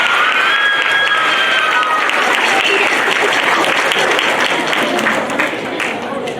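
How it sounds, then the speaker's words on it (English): A middle school spring band concert crowd claps loudly with some cheering and a high whistle at the start. Sustained applause tapers slightly near the end. "Give one more round of applause for these three individuals."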